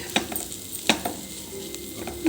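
Broad beans (chikkudukaya) frying in a pan for an Andhra-style fry, a soft sizzle broken by a few sharp clinks and scrapes of a stirring spoon against the pan, close and without talking.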